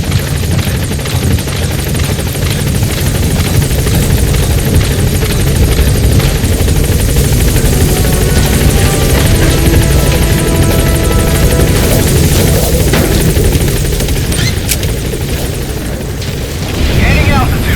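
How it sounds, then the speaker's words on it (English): A support helicopter in Metal Gear Solid V roars loudly and steadily at close range, its heavy rotor and engine drone filling the scene, with a game radio voice speaking over it. "Support helicopter has arrived."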